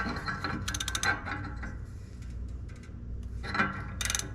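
A ratchet snugs an oxygen sensor on a Honda Element, giving bursts of quick clicking ratchet strokes at the start and again near the end, with quieter mechanical handling in between.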